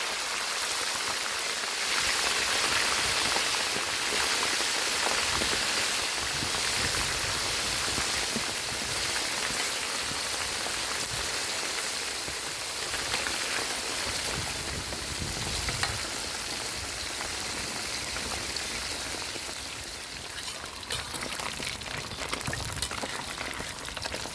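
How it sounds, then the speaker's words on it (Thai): Snakehead fish fries in very hot oil in a pan, a dense, steady crackling sizzle like heavy rain that holds close and continuous for the whole stretch, with no voices. "ขั้นตอนแรกเราก็มาทอดปลากันก่อนครับ"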